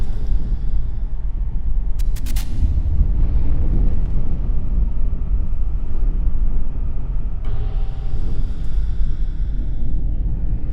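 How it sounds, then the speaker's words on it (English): A see-through demonstration engine cycles through intake, compression, power and exhaust strokes, giving a steady, continuous low rumble with a brief bright rattling burst near the start and a slight lift in texture toward the end. "All the explosions are synchronized together to make that one constant engine roaring sound."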